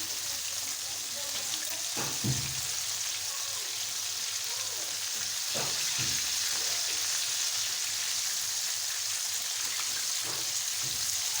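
Chicken drumsticks frying in a pan, a steady close hiss and crackle of hot oil running throughout with a few brief clunks and clatters of utensils.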